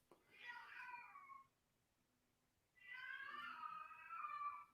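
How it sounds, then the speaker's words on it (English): A house cat gives two long, drawn-out unhappy meows separated by a short pause, faint and somewhat distant in an otherwise quiet room. "Can you hear my cat? That's your cat? Yeah. That is an unhappy cat."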